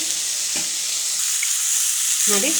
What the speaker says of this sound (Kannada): ಎಲ್ಲ ಚೆನ್ನಾಗಿ ಫ್ರೈ ಆಗಿದೆ.